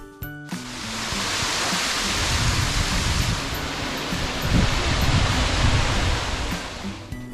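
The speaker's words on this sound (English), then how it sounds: "This was just a waterfall on the side of the road where we parked at the Gorge Creek Falls." A roadside waterfall at Gorge Creek Falls in the North Cascades roars as a dense, steady rushing wash, loud and continuous after a brief quieter start, with no voices.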